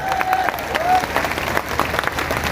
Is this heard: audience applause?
yes